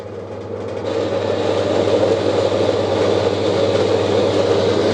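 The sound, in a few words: horizontal bandsaw cutting metal in a home workshop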